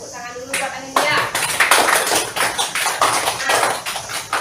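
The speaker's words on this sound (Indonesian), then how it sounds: "Tepuk tangan dulu buat Anindya." A classroom of schoolchildren breaks into rhythmic clapping for a classmate, the brisk, uneven hand claps starting just after a short spoken lead-in and carrying on steadily to the end.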